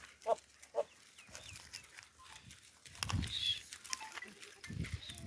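A herd of goats grazing outdoors on a summer day in Talagang, with a couple of short bleats early on, then soft rustling and scattered animal movement against a quiet open-air background.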